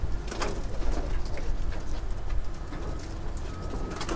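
Pigeons coo repeatedly nearby, soft throaty calls overlapping with faint rustling and flapping in the background.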